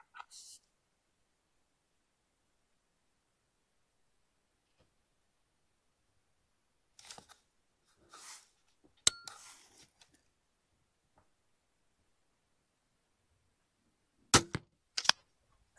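A crossbow is fired at a target in a tuning session, with a sharp snapping release and thwack in the middle, brief faint clicks and handling noises around it, and short quiet voices at the start and end amid long silences.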